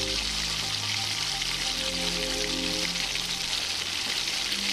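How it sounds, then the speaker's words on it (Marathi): Potato French fries sizzle in hot oil, a steady, dense crackling hiss that continues at close range throughout without a break, with a faint low hum underneath. "त्यानंतर आता आपल्याला 5 ते 10 मिनिटानंतर फ्राय करायचे आहे."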